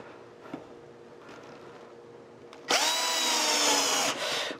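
A power drill drives a 15 mm screw through a metal bracket into 15 mm plywood for a table build. After some quiet handling noise there is one loud, close whine of over a second that rises in pitch, then a brief tail.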